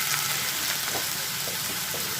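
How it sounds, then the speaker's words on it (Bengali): Lentil dumplings frying in hot mustard oil give a continuous, even sizzle with soft bubbling crackles throughout, close and steady. "তেল বসিয়ে দিয়েছি তেল গরম হয়ে গেছে দিয়ে দেবো আমি ভাড়ালিগুলো"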